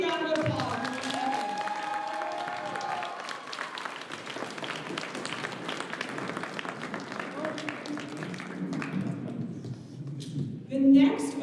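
A school awards ceremony audience gives a big round of applause for a basketball player, steady clapping throughout with voices and chatter mixed in, swelling briefly near the end.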